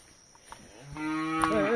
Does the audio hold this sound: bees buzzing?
no